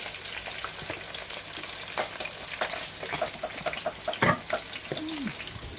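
Fish curry bubbling and sizzling in a pan, a steady broadband hiss with scattered small pops and a few clinks, close by, with no talk.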